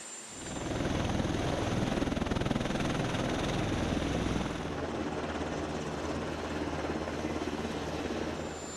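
A presidential VH-3D or VH-60N helicopter in flight, its loud, steady rotor thrum and turbine roar continuous and close throughout, easing slightly in tone midway.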